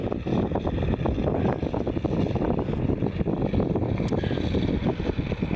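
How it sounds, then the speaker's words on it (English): A model B-17 bomber plane taxis out to a runway, a loud steady rumbling engine drone mixed with gusty wind noise on the microphone, continuous and close. "he's taking his B-17 out to the runway, and he's getting her lined up"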